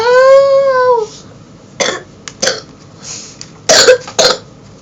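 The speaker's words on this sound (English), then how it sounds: "Yes, I have a bad cough." Several sharp coughs from a person with a bad cough, coming in short bursts after a sustained tonal sound at the start, close and fairly loud.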